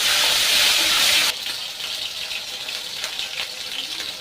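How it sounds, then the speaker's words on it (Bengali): Chicken pieces fry in hot oil for a spicy kosha curry, giving a broad, steady sizzle. It starts loud and then drops to a softer, crackling sizzle with small pops, and no one speaks. "এবার একটু তেল দিয়ে চিকেনগুলো দিয়ে দেব। চিকেনগুলো একটু ভাজিয়ে নেব।"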